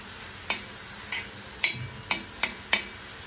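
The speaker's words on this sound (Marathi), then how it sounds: "तेलावर मी छानपैकी कांदा कोमवून घेते इकडे" Onion softening in hot oil for an egg ghotala, heard as a faint sizzle behind several distinct spatula taps and scrapes against the pan, spaced about half a second apart.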